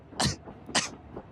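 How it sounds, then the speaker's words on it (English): Two sharp coughs from a person, close and fairly loud, the second followed by a faint third catch, alone without talk. "Both of you can hear amidst everything a familiar person coughing"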